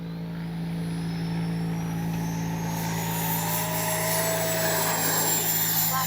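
FMS 80mm Futura V3 RC jet spooling up for takeoff on a runway with flaps set: a steady, loud, continuous ducted-fan whine with a strong tonal hum, building slightly in intensity as it accelerates, with no talking.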